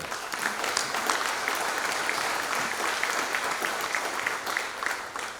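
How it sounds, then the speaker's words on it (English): Audience at a Bluefield Coal Show exhibitor breakfast applauds volunteers and staff, a steady, dense wash of clapping holding at even loudness for the whole stretch with no voices over it. "they deserve a round of applause before we even get going"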